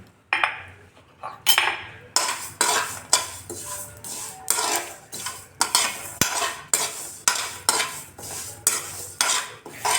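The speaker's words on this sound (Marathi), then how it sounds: "याच्यातच आता आपण तीळ टाकून घेऊ" Sesame seeds roasting on a low flame in a pan that already holds peanuts are stirred with steady, rhythmic scraping strokes, roughly two per second. The strokes are close and crisp, with occasional metallic clinks.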